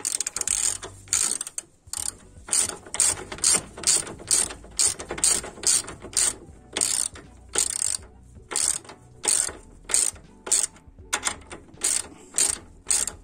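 A ratchet clicks in quick repeated bursts while tightening a steering ball joint on a Renault Laguna 2, close and crisp with short pauses between strokes and no talking.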